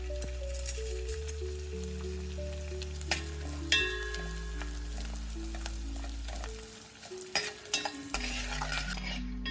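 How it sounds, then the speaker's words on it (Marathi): Edible gum pieces frying in hot oil for dink laddu, a steady bubbling sizzle with occasional stirring scrapes and clinks, close and continuous under a soft musical backing. "थोडे थोडे करून आपण डिंक टाकूयात तळायला."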